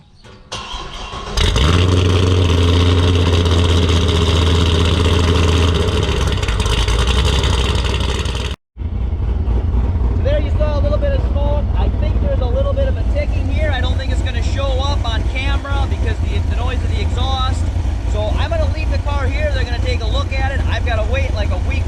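A Corvette C6 Z06, suspected of a dropped valve, cranks and fires up loudly close to the rear exhaust, then settles into a steady, rough-edged idle that runs on continuously while people talk nearby.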